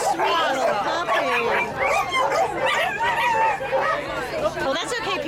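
A small puppy yips and whimpers in high, wavering cries, close by and nearly continuous, with people talking softly underneath.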